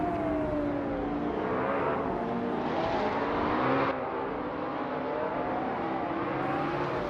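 A 2011 McLaren MP4-12C supercar races in a video game, its engine a steady loud whine that rises and falls with gear shifts and nearby cars blending in, no voices.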